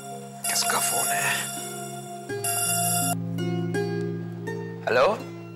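A mobile phone ringtone plays a sustained multi-tone melody at moderate loudness, with a brief voice breaking in near the start and again near the end.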